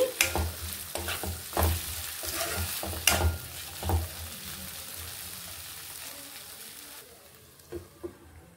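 Egg and potato curry frying in a pan over a medium flame, a soft continuous sizzle broken by several distinct scrapes and knocks of a spoon stirring, then quieter simmering with a couple of final clinks.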